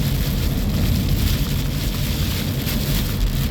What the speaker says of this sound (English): Boy, look at this rain,